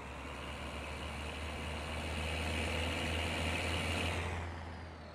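A Case Maxxum 5150 tractor engine in Farming Simulator 19 drones and revs up, a steady loud low hum with rising whine that fades at the end.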